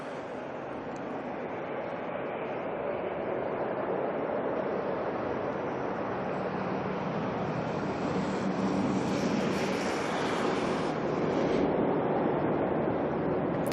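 National Cargo Boeing 747 on final approach into Auckland Airport, a steady distant jet rumble that gradually grows louder, with a brief higher hiss near the end.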